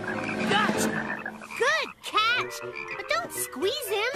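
Frog croaking in a cartoon swamp, loud rising croaks repeating through the clip while children talk and shout over them.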